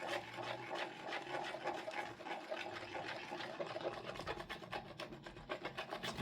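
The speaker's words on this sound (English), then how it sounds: "Scrape your bottoms, scrape your sides, and really mix that paste in well." Resin paste is scraped and stirred inside a cup, producing continuous close, rhythmic rubbing and scraping strokes at a fairly quiet level with no voices.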